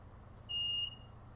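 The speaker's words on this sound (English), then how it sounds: "that was the guard's buzzer" Inside a Great Western Main Line train cab, the guard's buzzer sounds once as a short, steady electronic tone lasting about half a second over quiet cab hum, with no speech.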